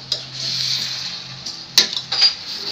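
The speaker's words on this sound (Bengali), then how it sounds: "এখন এটাকে ভালো করে নাড়া দিতে হবে" Mustard greens (shorishar shaak) stirred in a cooking pan give soft, scattered clinks and scrapes of a utensil against the metal, a few sharper knocks near the end, over a steady faint hiss.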